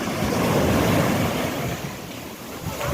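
Large sea waves surging and crashing onto a beach where fishermen haul seine nets, a continuous loud roaring wash with wind buffeting the microphone and no pauses.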